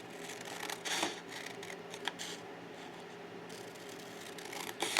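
Scissors snip through paper while medallion embellishments are made as a craft, giving a few sparse, crisp cuts over a quiet room background.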